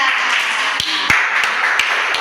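A classroom claps for a student: a steady wash of many hands patting together, with a few sharper, louder claps standing out at irregular moments, no talking over it.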